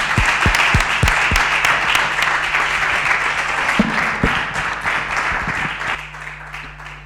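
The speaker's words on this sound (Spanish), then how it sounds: "y yo pido un aplauso para los dos" Audience applause at a panel discussion on young executives and their projects, with dense sustained clapping at moderate loudness that runs steadily for several seconds and thins slightly toward the end.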